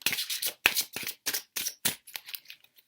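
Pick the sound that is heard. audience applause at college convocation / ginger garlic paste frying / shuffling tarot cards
shuffling tarot cards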